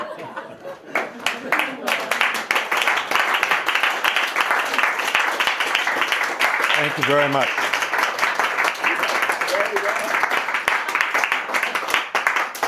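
Warm audience applause at a reading event celebrating Ruth Moore, sustained dense clapping mixed with chuckles and laughter, fairly close and filling the room, with a speaker briefly talking over it.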